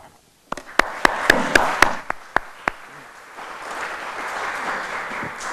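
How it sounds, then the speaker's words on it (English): Audience at a small business forum in Nashville starts clapping abruptly: a handful of sharp, separate claps come first, then they merge into a steady, moderate wash of applause that carries on without any talking. "the applause happened before I had a chance to say you can clap now"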